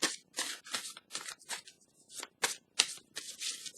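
Tarot cards being shuffled by hand, a series of crisp riffling bursts separated by brief pauses, close and clear with no talking.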